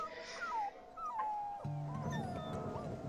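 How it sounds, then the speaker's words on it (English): Wolf pups in the WolfQuest video game whimper and yip near the den, thin high whines rising and falling over a low in-game ambient bed, with a steady tonal hum entering partway through. "We are back at the den. Oh, I'm tripping over puppies."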